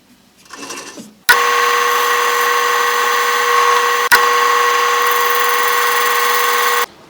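A drill bores a hole through wood for a MicroJig 360 sled: a steady, loud, close motor whine lasting several seconds with a brief hitch midway, stopping abruptly.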